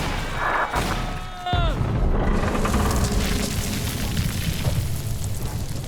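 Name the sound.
explosive charges detonating, from the video game BioShock 2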